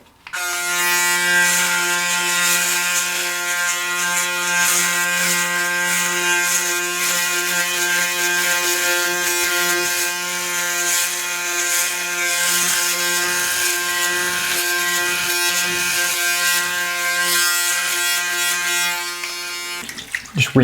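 A Braun Series 9 electric shaver buzzes steadily while shaving a head, a loud, close, continuous motor hum with a rasping texture as the foil moves over the scalp, stopping near the end.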